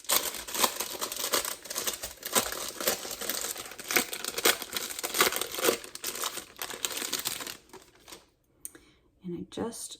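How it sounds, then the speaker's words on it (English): A plastic wrapper around store-bought pie crust dough crinkles and crackles close by in dense, continuous bursts for about eight seconds, then quiets, with a voice talking over parts of it. "you can see how it comes in a plastic wrapper"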